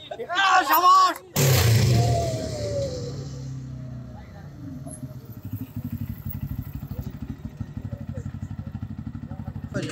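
A KPR 200 motorcycle with a 200 cc engine runs on a test ride, its steady, throbbing exhaust rumble continuing after a loud opening burst, with a person speaking briefly at the start.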